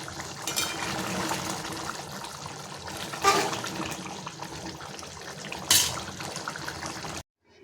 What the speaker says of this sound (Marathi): बघा किती मस्त उकळ आलेली आहे भाजीला